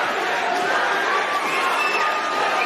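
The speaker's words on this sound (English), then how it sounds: "Have a listen to this crowd." A large MMA event crowd cheers and roars continuously at an Eternal MMA fight, a dense wall of shouting voices that stays loud from start to finish.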